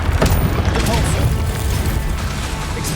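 A Depulso force spell is cast in Hogwarts Legacy amid a busy fight, with loud booming blasts and splintering, smashing impacts packed tightly together in the foreground.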